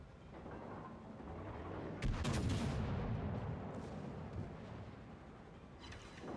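Heavy naval gunfire in World of Warships as a Republique battleship trades salvos at close range, with a dense continuous roar of booming shots and a sharp, louder crack of broadside fire near the middle.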